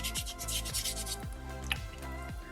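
Steady rhythmic rubbing of sandpaper over a small soapstone fox carving, close and fairly loud, with repeated back-and-forth strokes roughly every half second and no talking.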